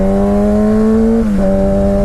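An M4 exhaust with its baffles removed drones loudly and close, a steady tonal engine note whose revs dip briefly midway before settling back.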